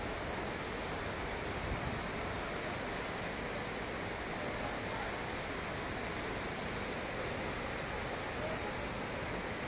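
Dense, steady roar of rushing floodwater near a closed bridge during heavy rain at Bom Jardim da Serra, a continuous broadband wash that stays loud and unbroken throughout with no clear voices.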